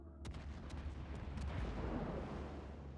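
Naval gunfire in the World of Warships video game, a few distant cannon booms over a heavy low rumble of battle ambience, fairly faint and with no one speaking.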